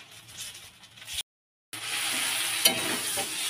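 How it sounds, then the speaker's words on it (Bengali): Vegetables, including capsicum and potato, sizzle steadily in a pan for chowmein, with light stirring scrapes, a brief cut to silence midway, and then the frying resumes louder and close. "আর সবজি এদিকে ভাজছি"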